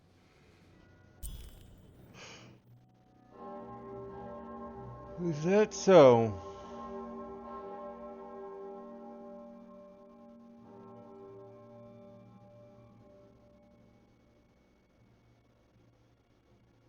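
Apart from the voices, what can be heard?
bell ringing in the video game Lost in Random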